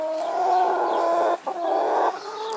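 Backyard hens cluck and murmur close by in a continuous, busy chorus with brief pauses, loud and without talk, in a suburban garden in Christchurch, New Zealand.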